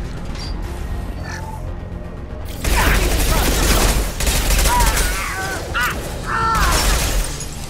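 Gunfire erupts in Mass Effect 2 combat, sharp bursts of shots that start after a quieter stretch, with intermittent pauses and chirping electronic effects mixed in.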